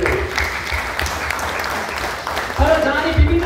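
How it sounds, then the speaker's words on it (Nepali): An audience applauds at a Lions Club officers' workshop after a motivational speaker prompts them. The clapping is moderately loud and sustained under ongoing speech, and it swells near the end. "आमाको नामलाई के ताली दिँदै"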